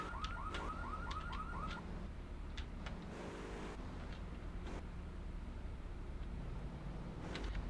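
Car alarm in the GTA 3 video game, a repeating warbling electronic tone cycling rapidly for the first couple of seconds, then fading into a busy street-scene background with traffic noise.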